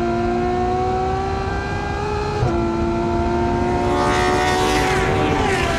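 Ferrari F12 Berlinetta, a 730-horsepower car revving to 8,500 rpm, with its engine howling loud and close at speed, the pitch climbing, dropping sharply at a gear change, then rising again.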